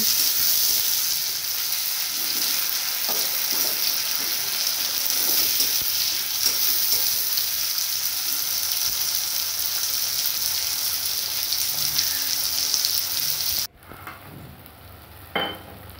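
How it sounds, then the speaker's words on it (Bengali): Steady, loud sizzling of onions frying in a pan for chicken curry, continuous for most of the time before cutting to a quieter patch with a brief clatter. "তারপর পেঁয়াজগুলো একটু ভাজা ভাজা করে নেব।"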